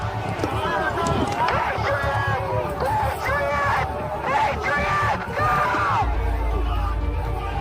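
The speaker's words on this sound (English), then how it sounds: "while members in the crowd shout at him" A crowd at the Capitol breach shouts and yells over one another in a dense, loud babble of overlapping voices, with individual cries rising above the din before a low rumble takes over.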